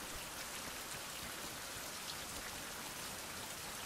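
Steady rain hisses and patters across surfaces, a dense, even wash of drops with no breaks, moderately loud and alone.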